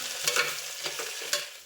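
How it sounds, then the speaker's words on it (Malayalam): Spices, curry leaves and ginger-garlic paste frying in a pan for chicken curry, a soft steady sizzle with a few quick stirring scrapes, faint and close. "പെരിഞ്ചീരകം ഇട്ട് പൊട്ടുമ്പോഴത്തേക്കും അതിലേക്ക് ഗ്രാമ്പൂ അതുപോലെയുള്ള മസാലയുടെ കൂട്ടിയിട്ട് കറിവേപ്പില ഇട്ട് ഇഞ്ചി വെളുത്തുള്ളി പേസ്റ്റ് ഇട്ട് നന്നായിട്ട്"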